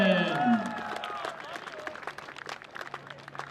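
Crowd at a high school football game applauding and cheering for a player, scattered clapping under a public address voice that fades and echoes out at the start.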